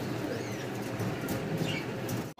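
Several fancy pigeons, including Kashmiri racers, coo continuously and close by in a low, dense murmur, with a faint flutter of wings.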